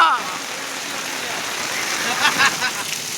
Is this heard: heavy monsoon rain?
yes